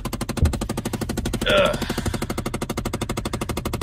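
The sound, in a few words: actuator ticking in a 2009 Chevrolet Impala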